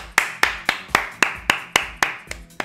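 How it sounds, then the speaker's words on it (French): Steady, evenly spaced hand claps, about ten in a row, sound crisp and close, with no voices over them. "On peut l'applaudir, s'il vous plaît."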